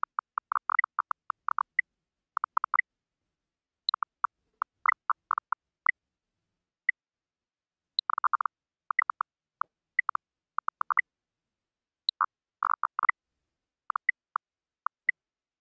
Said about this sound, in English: I will sonify this and play to you different trials in a sequence.